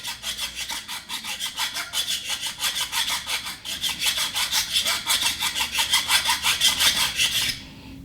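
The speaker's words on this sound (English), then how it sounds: "you're going to file down that nub and make it so it's flat" A file scrapes down a plastic nub on a Toyota FJ radio mount in quick, even back-and-forth strokes, close and rasping, for about seven seconds before stopping.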